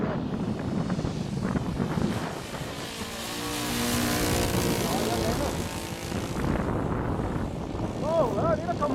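A radio-controlled Messerschmitt Bf 109F ARF model airplane flying overhead, its engine a steady buzzing drone that rises and falls as it passes, with people talking nearby throughout.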